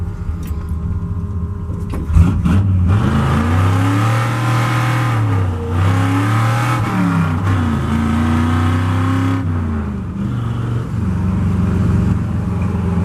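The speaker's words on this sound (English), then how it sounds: "Could probably do a mint burnout right now." A 5-speed-swapped Ford F-100 pickup does a burnout in the dirt, its engine roaring loud and close with rising and falling revs held for several seconds.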